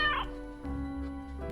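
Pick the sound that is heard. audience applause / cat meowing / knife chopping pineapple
cat meowing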